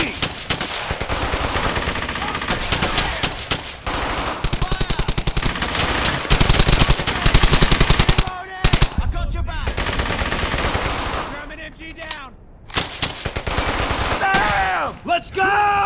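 Dense machine-gun fire and rapid gunshots in the video game Brothers In Arms: Hell's Highway rattle almost continuously in loud, close bursts, with only a few brief pauses between volleys.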